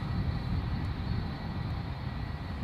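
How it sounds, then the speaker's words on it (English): A parked airliner idles on the apron at Edinburgh airport, giving a steady, continuous low engine rumble with a faint high whine above it, holding even in level from start to finish with no voices. "I'm sure that plane's idling."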